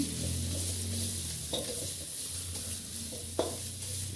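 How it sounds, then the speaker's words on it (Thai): Chili curry paste for a chicken jungle curry frying in a pan, a steady close sizzle broken by a couple of sharp scrapes as it is stirred. "คนให้น้ำพริก มันสุก ให้น้ำพริกมันหอม"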